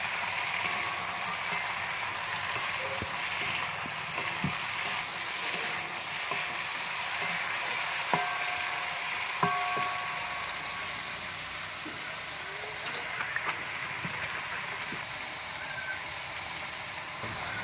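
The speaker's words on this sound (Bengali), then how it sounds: "সবজিগুলো ভালো করে রোস্ট করে নেব যেন কাঁচা না থাকে।" Vegetables for shukto, a Bengali mixed-vegetable dish, roasting in a pan, a continuous moderate sizzle and crackle with occasional utensil clinks and stirring scrapes throughout, no voices.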